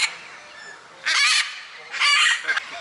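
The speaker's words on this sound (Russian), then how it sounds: "А вот здесь попугайчики кричат вовсю, не нравится," Caged parrots in a cramped enclosure give loud harsh honking screeches, two long bursts with a brief call near the end, close by and without speech.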